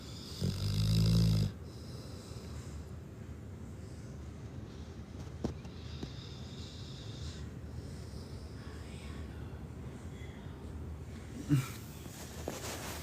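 A Cane Corso sleeping after surgery gives one loud, deep snore near the start, followed by quiet breathing and a few faint snorts in a hushed room.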